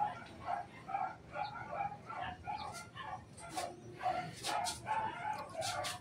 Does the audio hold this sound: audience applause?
no